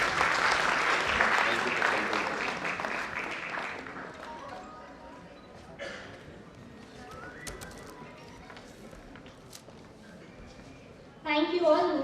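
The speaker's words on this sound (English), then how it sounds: "A big clap for Dr. D.S." Conference audience at an international sports and exercise medicine event claps loudly for an honoree for about four seconds, the applause then trailing off into a quieter room where voices speak.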